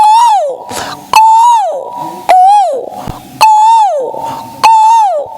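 A voice imitates the koel's call, a rising, whistled kuhoo repeated five times in a steady rhythm, loud and close with brief gaps between calls.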